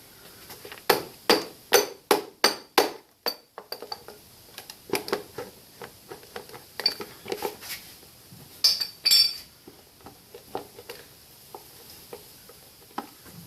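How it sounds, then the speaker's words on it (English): A wrench knocks against the air filter box of a 1984 Honda V30 Magna motorcycle during carburetor removal: a quick run of sharp metallic taps up close, then scattered, lighter knocks and clinks. "use a nice little wrench here. Just something with some weight that can hit the top of the air filter box off of the air filter"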